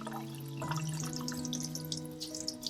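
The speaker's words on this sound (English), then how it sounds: "Very gently, pass some water" Tap water runs into a sink as canned ackee is gently rinsed, a steady close splashing stream with scattered drips and trickles, alone without talk.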